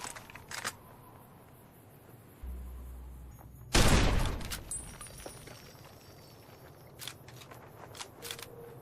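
A single sharp gunshot cracks out of a quiet backdrop in the video game Fallout: New Vegas. It is preceded by a low thump and followed by faint scattered clicks and ambient noise.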